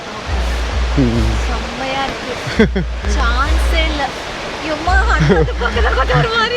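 Steady roar of a large waterfall in Badulla, Sri Lanka, loud and continuous, with people talking over the rushing water throughout.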